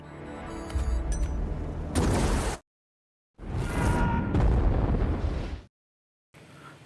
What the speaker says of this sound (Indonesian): Hap dengan terpaksa menekan tombol peluncur roket tepat di mobil itu dan terjadilah ledakan